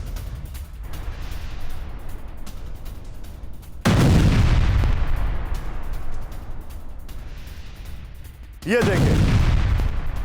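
Heavy explosions from air strikes and missile attacks on Hezbollah positions in Lebanon. Two loud, sharp booms each decay into a long rumble over steady background noise, with a voice speaking briefly.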